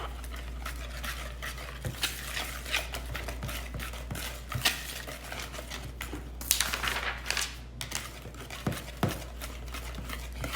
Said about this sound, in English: I'm gonna put half in and mix.